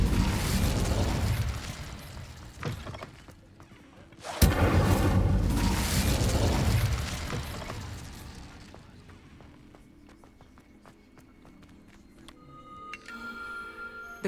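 Incendio fire spell being cast in Hogwarts Legacy, heavy booming bursts of flame, loud and close, with a big blast midway that roars before fading into quieter ambient crackles and small pops.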